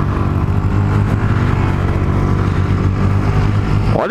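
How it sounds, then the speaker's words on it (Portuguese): Honda XRE 150 motorcycle engine accelerating hard, a loud, close, steady droning roar that holds throughout and climbs sharply in pitch at the very end. "Ó, vou acelerar de novo. A XRE 150."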